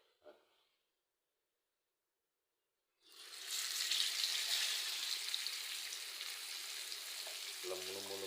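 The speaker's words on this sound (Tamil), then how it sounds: "மீனை வறுத்து எடுத்துடலாம் சாப்பிட்றதுக்கு" Fish hits hot oil in a pan after a near-silent pause, then a steady, loud crackling sizzle carries on close by, with a brief clink near the end.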